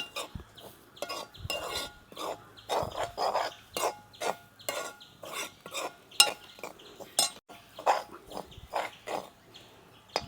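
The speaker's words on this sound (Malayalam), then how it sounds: "തേങ്ങ വറുക്കാൻ, അല്ലെന്നുണ്ടെങ്കിൽ കരിഞ്ഞു പോകും. എപ്പോഴും ഇളക്കിക്കൊണ്ട് ഇരിക്കണം." Grated coconut being dry-roasted in a pan with fennel seeds and curry leaves, stirred constantly with a spoon: repeated close scraping and clinking strokes in an irregular rhythm, with no talking.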